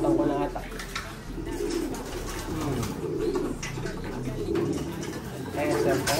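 Pigeons cooing in a loft, repeated soft throaty coos in a slow, uneven rhythm, close by and moderately quiet, with room noise and people talking in the background.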